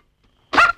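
A single short dog bark or yelp, close and sharp, breaks a silence in an old Malayalam comedy scene.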